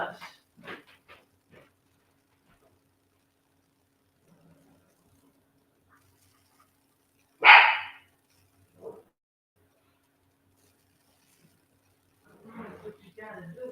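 A dog gives a single loud bark in a quiet indoor room, followed by a softer yelp, with brief scattered talk before and after.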